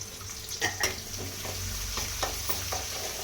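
Onions sautéing in a pan for a fish curry, with a continuous moderate sizzle broken by scraping stirs and a few sharper crackles, no talking.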